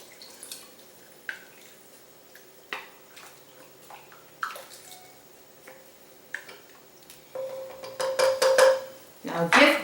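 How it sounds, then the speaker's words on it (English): Scattered light clinks and taps, then water pours steadily into a pot of dal makhani for the last couple of seconds, growing louder. "this is the juncture where you add quite a bit of water."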